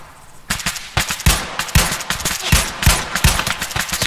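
Rapid gunfire in a military video game, loud close bursts of sharp shots in an uneven rhythm, some fast automatic strings, with no talk over them.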